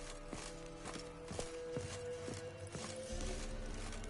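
Horse hooves clip-clop at a steady walking pace in The Witcher 3, a run of sharp, evenly spaced knocks over a constant game ambience with low background rumble.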